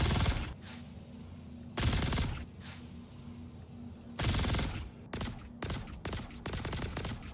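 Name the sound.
Custodian SMG gunfire in Star Citizen video game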